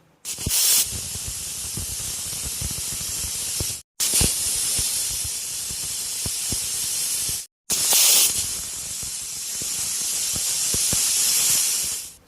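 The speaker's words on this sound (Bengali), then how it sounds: "আর সেই জন্য প্রেসার কুকারের ঢাকাটা আটকে আমি প্রেসার কুকারে 3টে সিটি দিয়ে নেব" A pressure cooker boiling dried peas lets off loud, close bursts of hissing steam, three long continuous jets separated by short silent breaks, with faint rattling underneath and no talk.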